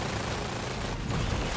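Dense, continuous gunfire in the video game Death Stranding 2 crackles throughout at moderate level, with rapid overlapping shots and a low rumbling undertone that swells slightly toward the end.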